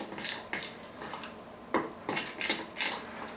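Peanut butter dough with powdered sugar is stirred in a bowl, producing a series of soft, close scraping and knocking strokes at an uneven rhythm, quiet overall with no talking.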